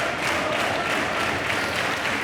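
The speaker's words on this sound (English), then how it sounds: "The crowd really getting into this. Packed out here at the Alexandra Palace." A packed crowd applauds at a World Championship of Ping Pong match at Alexandra Palace. The dense, steady clapping and crowd noise hold at an even level throughout, with no talk over it.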